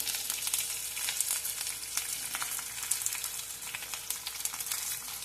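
Chopped onion, green chilli and curry leaves frying in hot oil for mango rice, a continuous close crackling sizzle with rapid spitting pops throughout, no voices.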